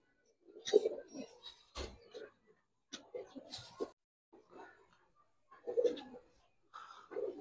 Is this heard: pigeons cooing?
yes